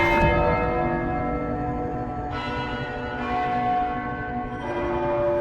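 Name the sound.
bell tower bell rung from underneath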